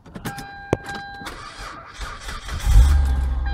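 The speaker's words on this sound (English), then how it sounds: "All right, so the car is on," A car engine cranks and catches after a few faint clicks and rustles, then settles into a steady, fairly close idle.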